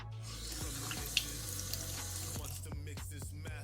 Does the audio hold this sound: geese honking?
no